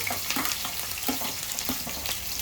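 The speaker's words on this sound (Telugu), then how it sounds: "ఆయిల్ హీట్ ఎక్కిపోయింది మనమైతే ఉల్లిపాయలు పచ్చిమిర్చి వేసుకున్నాము" Onions and green chillies frying in hot oil, a steady close sizzle with small crackling pops and occasional stirring clicks, no voices.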